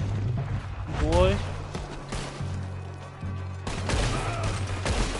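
Gunfire in Red Dead Redemption 2 during a shootout on the Island of Guarma: scattered shots and bursts over game ambience, with a brief whistling rise and someone talking through parts of it.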